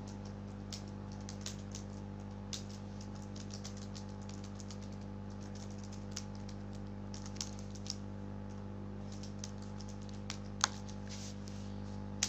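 Light irregular keystrokes on a computer keyboard, scattered quiet taps and clicks over a steady electrical hum, close by with no talking.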